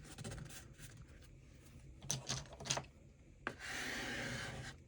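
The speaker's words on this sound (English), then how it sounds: "Use your bone folder to burnish it in place." A bone folder rubs and burnishes a paper hinge flat on a work surface for a junk journal binding, giving soft close scraping strokes, a few sharper rubbing bursts, then a longer steady rasping pass, with no talk.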